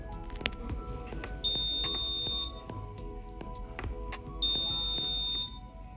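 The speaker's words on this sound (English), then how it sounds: "Whenever a push button is pressed to vote for a candidate, the LED glows and the buzzer blows." A buzzer on a DIY electronic voting machine sounds twice, each a loud steady electronic beep of about one second, clearly separated by a quieter stretch of clicks and handling noise.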